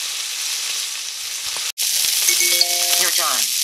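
Butter sizzles steadily in a hot frying pan holding steak, a loud, continuous crackling hiss that cuts out for a split second, then resumes alongside faint tonal beeps from a nearby device.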